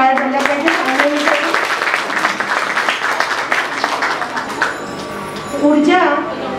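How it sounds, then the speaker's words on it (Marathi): An audience applauds a children's drama performance on stage, with scattered clapping rising and fading over several seconds as a voice speaks over it. "मग एकदा जोरदार टाळ्या झाल्या पाहिजे"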